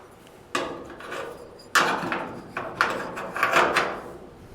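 ToughBuilt garage cabinet clips knock and clack into a metal track in a series of close hard taps and scrapes, several irregular hits over a few seconds.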